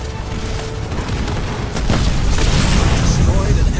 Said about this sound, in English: Destroyed an enemy structure.